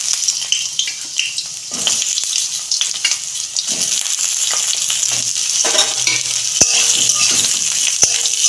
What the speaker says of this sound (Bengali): ঝিঙেটা 2 মিনিট ভেজে নেব।